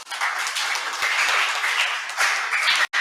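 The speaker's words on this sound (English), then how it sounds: "Kindly clap for our Dean." An audience at a memorial lecture applauds for the Dean, a steady, dense burst of clapping from a crowd that cuts off abruptly at the end.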